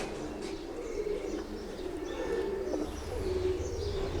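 Pigeons kept as fancy birds coo softly and repeatedly over a steady low background hum, with faint chirps scattered through; no talking.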